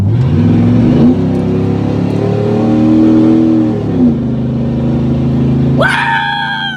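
A lifted 2WD 1995 Ford F-150 engine revs up and holds a loud, rising roar, then drops back to idle before a sharp high whine at the end.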